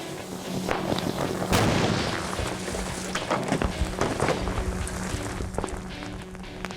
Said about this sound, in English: I'd say that was an explosion